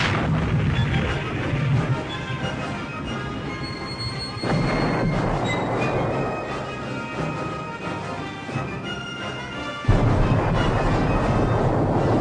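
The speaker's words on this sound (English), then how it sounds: "a tremendous barrage strikes Hitler's fortifications at Normandy, softening it up for the men who will soon hit the beaches" A heavy artillery barrage pounds fortifications at Normandy on D-Day, a dense, continuous rumble of booms and blasts with sudden louder surges, loud throughout and with no voices.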